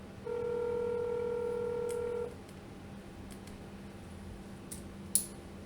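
Telephone keypad dialing tones during real-estate cold calling: a steady dual-tone beep held for about two seconds, followed by quiet line hiss and a faint click near the end.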